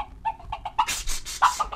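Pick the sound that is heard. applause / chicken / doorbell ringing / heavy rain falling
chicken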